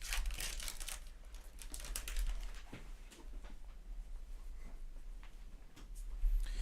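Trading cards from a 2022-23 Topps UEFA Club Competitions box being shuffled by hand, giving a steady run of soft crisp flicks and rustles close by, with low hum underneath and no speech.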